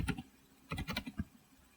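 Several quick bursts of keystrokes on a computer keyboard while writing CSS code, clustered clicks close and fairly quiet with short pauses between them.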